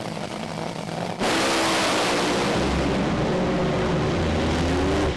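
Two drag race cars driven by Zipras and Lamartina launch at the Santos Summer Thunder meeting, erupting into a sudden, loud, sustained engine roar that stays at full volume for several seconds.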